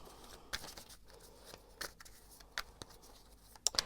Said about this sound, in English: But I'm going to shuffle.